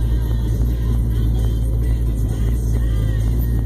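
Pontiac Firebird on nitrous at a drag strip, its loud, steady engine roar and low rumble filling the whole stretch without any talk over it.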